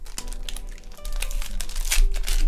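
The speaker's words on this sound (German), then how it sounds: "Die lassen sich halt so in der Mitte schwer aufreißen, die muss man eigentlich oben aufreißen." A paper trading card packet is torn open up close, giving steady crinkling and crumpling with short ripping bursts throughout, loud and continuous with no talking.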